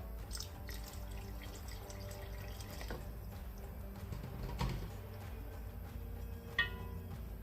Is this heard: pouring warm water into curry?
yes